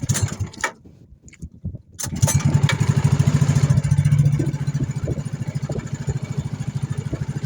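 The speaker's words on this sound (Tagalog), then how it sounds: "Namatay pa ang makina." A small boat's engine on a fishing trip is restarted after stalling, with a few pulls and sputters before it catches and settles into a steady, loud, close putter that runs to the end.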